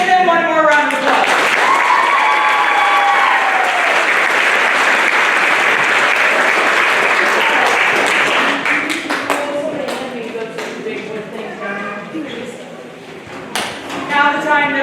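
Strong, steady applause from a school spring band concert audience, dense clapping sustained for about eight seconds before thinning out into scattered claps, with voices and a few whoops mixed in.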